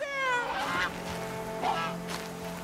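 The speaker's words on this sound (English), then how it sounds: "That was a turkey, but he's flown away." A wild turkey calls in the game Horizon Zero Dawn with a couple of loud honking, goose-like cries, the first long and wavering and a shorter one later, over a soft ambient hum.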